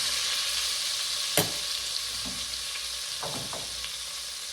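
Onions, carrots and garlic sauteing give a continuous bright sizzle, broken by a sharp knock early on and a few softer stirring scrapes later, close by.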